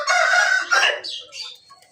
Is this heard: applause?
no